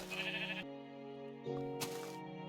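Sheep in the Minecraft video game bleating twice, a clear, close, wavering game-sound bleat followed by a second one after a short pause.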